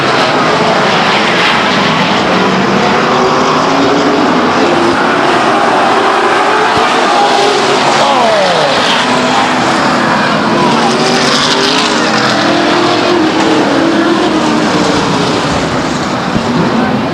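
Grand Am division race cars at Stockton 99 Speedway in 1999 roar continuously as a pack, with engine pitch rising and falling as cars pass, loud and sustained, with commentary partly audible underneath.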